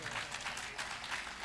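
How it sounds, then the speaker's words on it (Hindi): Audience applause at a live Hindi kavi sammelan, a faint, steady crowd clapping that fills the short clip with a slightly rising and falling texture. "तालियां आप लोगों की अभी भी कमजोर है।"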